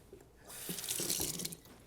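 A tap turns on and water runs for about a second, splashing into a sink nearby, then stops.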